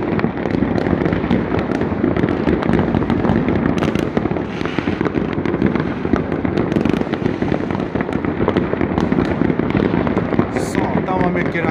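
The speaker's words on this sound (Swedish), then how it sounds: "Satan vad mycket raketer jag ser" New Year 2019/2020 fireworks and rockets bursting over Norsborg, Stockholm: a dense, continuous barrage of loud crackles and sharp bangs with no letup, with voices talking underneath.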